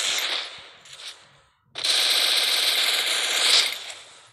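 Rapid automatic gunfire in a mobile battle-royale shooter, a loud burst that trails off, a brief pause, then a longer sustained volley close by with no talk over it.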